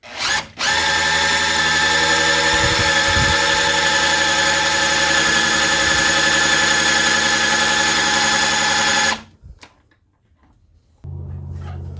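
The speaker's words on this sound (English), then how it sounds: "So you use this priming tool on my drill, and the trick is you do it until you see oil coming out one of the valves" A cordless drill spins an oil priming tool counterclockwise in a rebuilt Pontiac V8 from a 1969 GTO, a steady loud whine with harmonic hum running about nine seconds, then stopping abruptly before quieter background noise.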